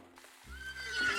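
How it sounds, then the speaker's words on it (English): A horse whinnies out of near silence, a rising, strained neigh swelling over about a second under a soft wash of rain. "Was that a fucking horse?"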